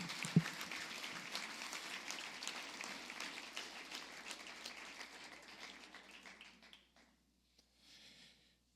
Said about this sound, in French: une bonne main d'applaudissements à nouveau pour notre nouvelle docteure